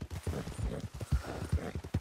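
Rhythmic clip-clop of horse hooves trotting at a steady pace in Red Dead Redemption 2, close and fairly quiet.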